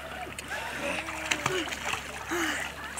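A child swims and splashes in sea water at a beach, with light intermittent splashes and sloshing close by while adults and someone talk over it.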